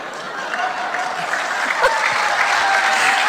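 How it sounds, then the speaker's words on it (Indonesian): Audience applause at a church sermon gathering, a dense steady clatter of many clapping hands that holds loud and even throughout, with a faint background voice partly under it. "Nggak usah tepuk tangan, nggak penting."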